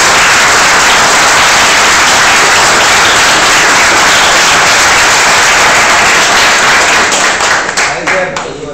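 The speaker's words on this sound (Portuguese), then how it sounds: "uma salva de palmas." Audience at a SENAC final presentation giving a loud, dense round of applause, sustained clapping from a crowd that thins out and fades over the last couple of seconds.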